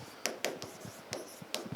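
Pen or marker taps and short scratching strokes of writing out chemistry numbering, quiet and close, coming in brief irregular bursts.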